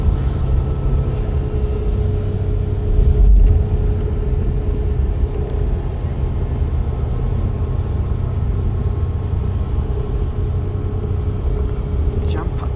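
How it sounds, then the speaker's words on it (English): A crowded bus is moving along, filling the cabin with a loud, steady rumble of engine and road noise that swells briefly before settling into a constant drone. "Jam-packed bus again."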